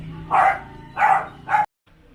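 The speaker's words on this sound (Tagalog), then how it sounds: "Pati po yung mga aso namin" Pet dogs at a home garden let out three close, sharp barks in quick succession, fairly loud and near, then fall silent.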